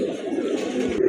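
A pair of large Rajgolla pigeons coo in a low, steady murmur, continuous and fairly close, with no talk over them.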